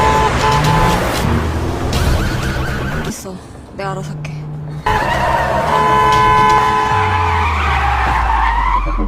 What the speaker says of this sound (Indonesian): Sokgu langsung memutar balik mobil untuk mengejar mereka